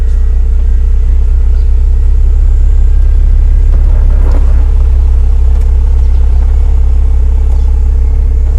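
Porsche 911 Targa 4 GTS engine running, a loud steady low rumble throughout, with a faint mechanical whir midway as the roof opens.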